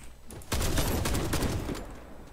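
Rapid gunfire in the online shooter Warface, a dense, loud burst of shots that starts abruptly and keeps rattling close by with no talking.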